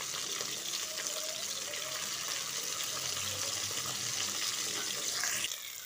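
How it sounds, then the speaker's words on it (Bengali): Shingi fish are flipped and fried in hot mustard oil, a continuous close sizzle with small crackles and shifts as pieces are turned, stopping abruptly just before the end. "উল্টে পাল্টে মাছগুলোকে ভালো করে ভেজে নেব"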